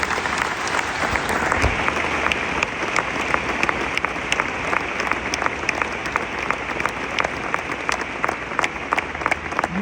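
A large audience applauds at a live speaking event, with a thick, sustained wash of many hands clapping at once and individual sharp claps standing out, loud and continuous, with a faint crowd murmur underneath.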